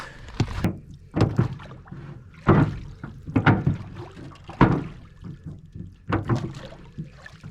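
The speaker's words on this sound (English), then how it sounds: "maiden voyage on the refurbished boat here" Irregular splashes and knocking thumps of a small refurbished boat moving through water, paddle-like strokes recurring every second or so, close by with no talking.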